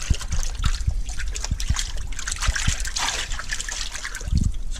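Tap water trickles and splashes in a kitchen sink while salted Arctic char is rinsed off, a steady close stream broken by soft splatters and handling bumps, with no talking.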